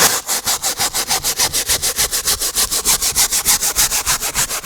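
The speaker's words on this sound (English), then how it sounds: "I will just begin to work it with this brush here" A stiff brush scrubs heavily soaked car seat fabric lathered with all-purpose cleaner, rasping in fast, steady back-and-forth strokes, loud and close with no talking.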